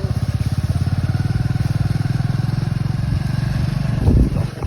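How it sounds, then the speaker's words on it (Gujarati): A motorcycle engine chugs close by in a fast, steady pulsing rhythm, ending with a brief rougher rattle and rev. "ચલો રુદ્ર બાઈક બેસી જઈએ પછી જઈએ ગામમાં"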